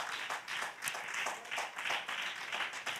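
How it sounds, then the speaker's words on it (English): A church congregation claps hands in praise, a dense, steady patter of many hands with rhythmic swells, moderately loud and without talk over it. "Let's give the Lord a hand clap of praise one more time."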